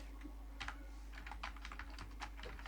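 Python code being typed on a computer keyboard, a steady run of quick, close key clicks in irregular bursts over a constant low hum, with no talking.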